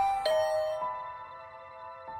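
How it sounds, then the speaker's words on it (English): Doorbell in the video game The Hundred Line gives a clear ding-dong chime followed by softer ringing tones, over a steady background music bed. "I rang the doorbell and could hear the bell ring on the other side of the door"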